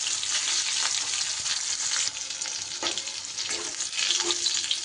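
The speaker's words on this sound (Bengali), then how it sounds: "এবার এই মাছ ভাজা তেলের উপরে দিয়ে দেবো আমি প্রথমে পটলগুলো একটু বেশ সুন্দর করে ভেজে নেব" Pointed gourd fries in oil left over from frying fish, a bright steady sizzle with occasional stirring scrapes and crackles across several seconds, fairly loud and with no speech.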